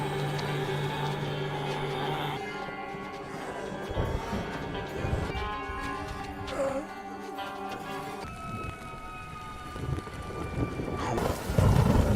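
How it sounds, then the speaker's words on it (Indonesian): Low thunder rumbles on and off ahead of approaching rain, the deep roll mixed in among sustained tones and shifting background sound with no voices. "Guludug yang guguludugan pertanda hujan akan segera turun"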